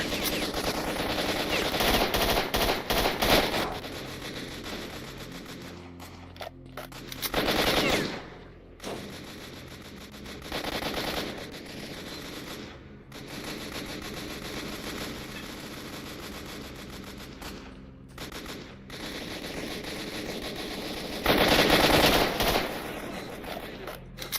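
Gunfire in the shooter Stalker Enhanced Edition, with long bursts of automatic fire and single shots from several weapons, loud and dense, broken by short lulls, while a person talks at times.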